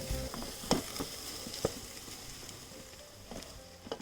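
A prawn masala sizzles steadily in a pan under a constant faint hiss, with a spoon stirring it now and then to make a few soft scraping knocks, close by and without talking.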